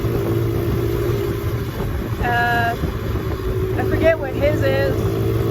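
A 2007 Honda CRF70 dirt bike engine drones steadily nearby, while a rider talks over it. A higher engine whine rises briefly partway through.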